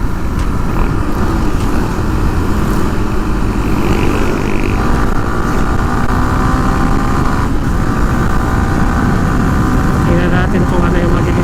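A Yamaha Sniper 155 motorcycle with a 14-43 sprocket setup accelerates hard toward top speed, its engine droning loud and continuously up close with strong wind rush, rising in pitch over time while a voice talks faintly.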